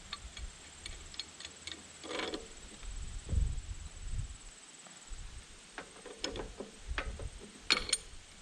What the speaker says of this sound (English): So I'm going to use is a pipe wrench on here to loosen up the cap.